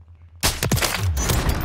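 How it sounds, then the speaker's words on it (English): Video game gunfire erupts suddenly after a quiet start, a loud dense burst of overlapping shots and cracks that stays heavy and continuous to the end. "Look at all these shots."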